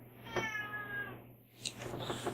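A pet cat meows twice indoors, a drawn-out, wavering cry followed by a shorter, higher call, close and fairly clear over a low background hum.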